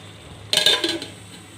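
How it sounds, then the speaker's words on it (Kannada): A plate is set over a pot of Ambur-style chicken biryani, one brief close metallic clatter and clink that rings for a moment, then fades into quiet. "ಈಗ ಪ್ಲೇಟ್ ಕ್ಲೋಸ್ ಮಾಡಿ"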